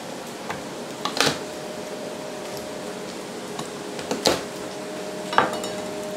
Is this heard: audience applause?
no